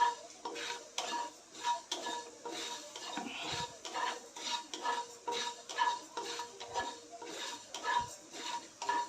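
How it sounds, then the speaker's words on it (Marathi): A utensil scrapes and stirs grated raw mango mixture being dry-roasted in a pan, with repeated metallic scraping and soft clinks in an uneven rhythm, close and moderately loud, with no voices. "मॉइश्चर जाईपर्यंत एक दोन मिनटं भाजून घ्यायचं आहे"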